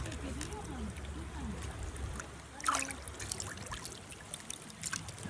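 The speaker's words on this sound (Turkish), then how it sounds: "Buz gibi su, derenin suyu tertemiz." Ice-cold stream water flows and trickles nearby in an outdoor picnic spot, a soft continuous burble running under voices talking throughout, with a brief louder splash midway.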